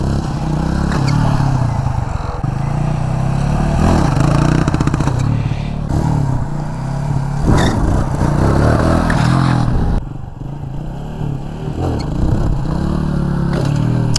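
A motorcycle engine revving under throttle during wheelie stunt training in Salem, loud and close, with a steady roar, rising and falling revs and some clattering.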